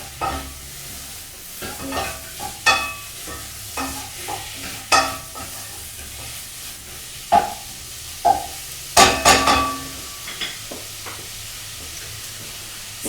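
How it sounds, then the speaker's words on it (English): A spoon stirring chicken and chickpea curry in a pan, with scrapes and knocks at irregular intervals over a low sizzle, close and moderately loud, with no voices. "I'm just going to give this a stir"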